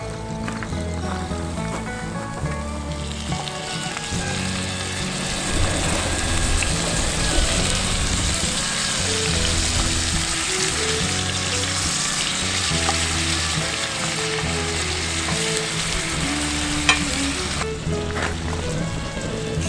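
Seared vegetables and tomatoes sizzle loudly and continuously in a pot for tomato basil soup, a dense steady frying hiss throughout, while background music plays underneath.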